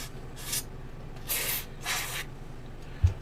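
Contact cleaner sprayed into the switches of a vintage Pioneer SX-650 stereo receiver during repair: three short close hissing bursts with brief pauses between them, then a small knock at the end.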